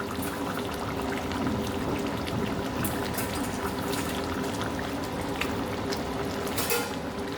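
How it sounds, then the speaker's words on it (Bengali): Fish pieces are slipped one at a time into a curry broth at a rolling boil, in a fish dish cooked with potato, eggplant and beans over a high-medium gas flame. Continuous close bubbling and sizzling. "ঝোলটা দেখুন টকবক করে ফুটে উঠেছে এবারে এক এক করে মাছগুলো আমরা ছেড়ে দেবো"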